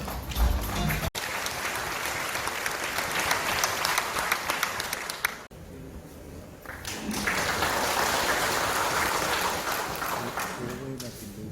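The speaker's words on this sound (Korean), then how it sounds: "여러분 큰 박수로 모시겠습니다." Audience applause at the launch ceremony for the 2022 Yeongju World Punggi Ginseng Expo, loud sustained clapping from a large crowd that briefly dips midway, then swells again, with a voice speaking over parts of it.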